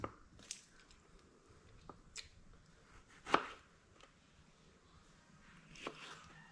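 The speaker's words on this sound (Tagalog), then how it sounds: "Maghihiwan na po tayo ng kamatis." A knife cuts through tomatoes on a board, with a few sparse, separate chops and a louder, sharper cut near the middle, set against a quiet room.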